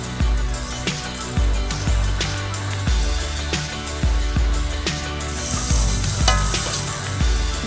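A mixture of cashew fruit and coconut milk cooks in a pan, giving a steady loud sizzle with repeated low thuds and scrapes as it is stirred, with no talk.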